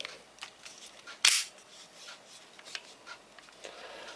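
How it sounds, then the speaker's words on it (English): A slide pin dropped into a WE Browning Hi Power M1935 replica pistol gives one sharp metallic click, close and loud, amid quiet handling noise. "you can put your slide on, lock it in place, and then just drop your pin in."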